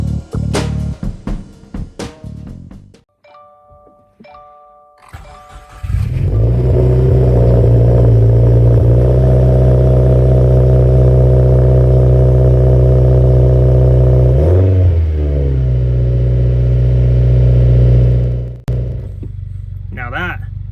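Car with an FA engine and turbo having its first startup: clicks and cranking, then the engine catches into a loud, steady rumbling idle with a brief rev partway through before it cuts off, close to the microphone.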